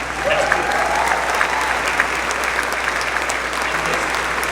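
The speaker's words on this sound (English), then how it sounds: "Yeah, you can clap for that." Audience applause fills the room after the Artemis II crew announcement, a steady, dense clapping crowd sustained throughout with faint cheers mixed in.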